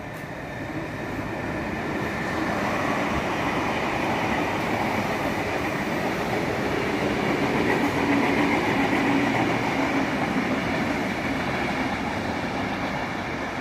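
A Sydney Trains train rumbles steadily through Granville station at night, a loud continuous roar of wheels and carriages holding close for the whole stretch with no talk.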